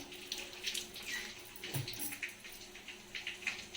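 Fresh curry leaves from a home-grown potted plant are rinsed under a running kitchen tap, giving a soft, steady splash and trickle with small bursts as the leaves are handled.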